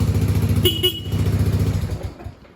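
A Suzuki Burgman 400 scooter runs with a steady low engine putter, and its horn gives one short beep partway through before the engine note fades out.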